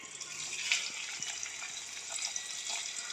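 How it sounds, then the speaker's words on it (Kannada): Onion frying in hot oil for homemade cabbage gobi manchurian, a steady soft hiss and sizzle with light crackles and scraping, close and quiet, with no talk. "ಅದೇ ಎಣ್ಣೆಗೆ ನಾವು ಇದರಲ್ಲಿ ಒಂದು ಸ್ವಲ್ಪ ಆನಿಯನ್ ಹಾಕ್ಕೊಳ್ಳೋಣ"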